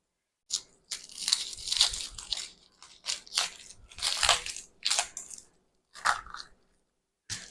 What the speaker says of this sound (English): that's a nice crunch